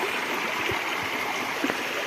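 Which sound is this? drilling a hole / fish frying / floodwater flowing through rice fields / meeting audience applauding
floodwater flowing through rice fields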